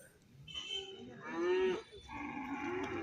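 A cow or buffalo at a livestock market lets out a loud, drawn-out moo near the middle, with shorter lowing before and after over faint background noise.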